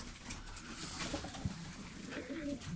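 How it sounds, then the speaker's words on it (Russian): Pigeons softly cooing inside a snowy winter dovecote, faint low murmurs against a quiet background with a few light rustles. "Вот голуби."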